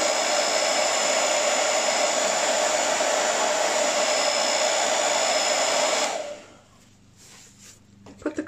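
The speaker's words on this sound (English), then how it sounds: "And we get our hair dryer, take off the concentrator, and blow right in the middle." A hair dryer with its concentrator removed blows onto an acrylic paint pour, a loud, steady close whoosh lasting about six seconds before it cuts off, followed by a few faint handling clicks.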